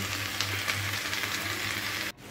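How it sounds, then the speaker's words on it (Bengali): Broad beans, potatoes, carrots and cauliflower fry together in a pan, giving a steady close sizzle with faint crackling that cuts off sharply near the end. "সিম একসাথে দিয়ে ভাজি করছি।"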